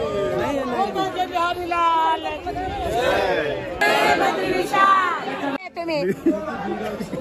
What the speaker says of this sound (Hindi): खतरनाक भीड़ है भाई